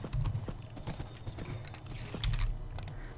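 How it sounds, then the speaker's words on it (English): Blocky hoofbeats clip-clop in a quick, steady rhythm as a horse is ridden in the video game Minecraft, close and fairly loud, with light clicking from a keyboard mixed in. "Ride, horsey."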